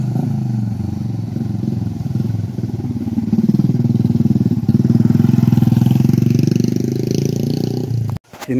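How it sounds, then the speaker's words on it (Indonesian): A small engine on a mini tractor used for ploughing rice paddies in a rural Sundanese village runs loud and close with a steady, chugging drone. It rises slightly in the middle, then cuts off abruptly near the end. "Ini ada traktor mini ya, buat membajak sawah."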